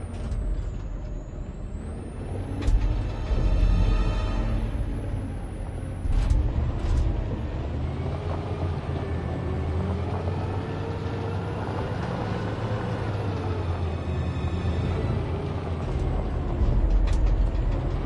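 A heavy truck in a PlayStation 4 video game runs with a low rumbling engine, releasing loud hissing bursts of air brakes near the start and again midway, mechanical clanks under a steady drone.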